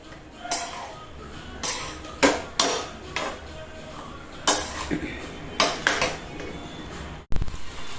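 Vegetable fried rice stirred in a pan with a metal utensil, giving a series of scraping clinks and knocks at an uneven rhythm, some louder strokes close by, with a duller thud near the end.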